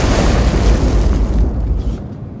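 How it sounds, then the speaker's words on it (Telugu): A movie bomb explosion lands as a loud, deep boom with a roaring, noisy blast that decays over about two seconds. "చూస్తే అది బంతి కాదు, బాంబు."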